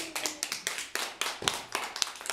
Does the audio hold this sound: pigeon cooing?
no